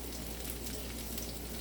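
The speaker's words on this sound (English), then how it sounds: "So I'm frying the fritters on the other side." Steady crackling sizzle of saltfish fritters frying in hot oil, continuous and fairly quiet, with no voices.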